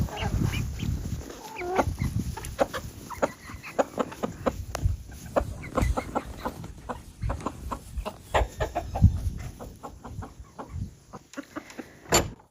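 Several chickens cluck and murmur nearby in irregular bursts, with scattered soft scratching and rustling around them.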